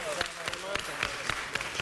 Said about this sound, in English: Let us give them a round of applause, folks.